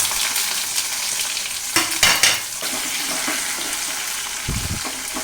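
Dried red chillies and onions sauté in coconut oil in a kadai, a steady close sizzle with a few louder bursts of stirring and scraping partway through and a soft clunk of the pan near the end.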